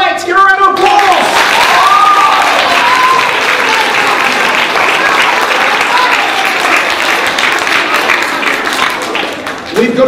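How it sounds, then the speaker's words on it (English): A school audience at a primary school applauds loudly and continuously, dense clapping filling the whole stretch with a few faint cheers mixed in. "Give her a round of applause!"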